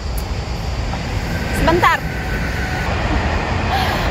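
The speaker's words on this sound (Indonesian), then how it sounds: "kereta liwat ini panjang." A long train rolls past in Italy, a steady broadband rumble lasting the whole stretch while a person speaks over it nearby.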